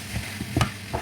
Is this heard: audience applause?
no